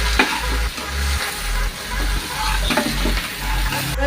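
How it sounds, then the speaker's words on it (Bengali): Kashmiri chili powder and ghee being stirred in a frying pan, a steady sizzle with repeated scraping strokes over a low rhythmic hum, close and fairly loud. "ঘি 1 চামচের মতন ঘি দেবো, দিয়ে ভালো করে নাড়াবো"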